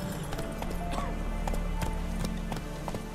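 Horse Roach from The Witcher 3 galloping, rapid rhythmic hoofbeats close and clear over game ambience, with a brief voice heard in the background.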